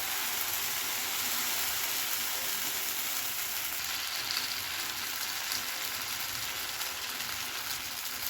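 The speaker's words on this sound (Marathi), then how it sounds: "आता नॉनस्टिकचा पॅन गरम करून त्यावर तेल व बटर आपण टाकून घेतलं आहे त्यानंतर आपलं जे बॅटर आहे ते आपण टाकून घेणार आहोत" Rice and potato dosa batter sizzles steadily on a hot nonstick pan greased with oil and butter, a dense, even crackling hiss that holds for several seconds without any talk.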